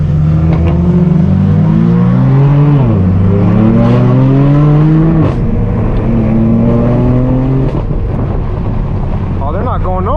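A straight-piped BMW M4 F82 in Sport Plus mode accelerates onto a highway, its loud exhaust roaring and rising in pitch through several gear shifts, heard close from inside the car.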